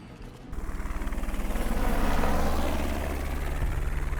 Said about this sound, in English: That's a pretty cool vertibird. It's a helicopter hybrid, I guess you could say. Flies like a plane.